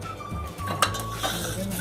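A metal spoon stirs and scrapes a thickening jaggery mixture in a pan while making banana pradhaman, with close clinks and scrapes against the pan over a faint sizzle.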